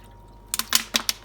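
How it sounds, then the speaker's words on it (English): Water hits a preheated cooking pot set up for jasmine rice, giving sharp, crackling hissing bursts in an irregular series after a quiet start. "I like to heat my pot up before I put the water in it"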